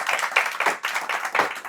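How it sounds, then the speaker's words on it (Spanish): Church congregation clapping during a Spanish-language Sunday service, rhythmic group hand claps in steady bursts, moderately close and fairly quiet, with no talk over them. "Damos un aplauso al Señor."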